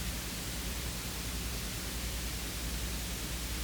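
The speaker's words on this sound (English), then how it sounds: "To me, this sounds like a Wi-Fi or something." Wi-Fi radio interference heard as a steady broadband hiss of static filling the whole stretch, even and unchanging, with a faint low hum underneath and no voices.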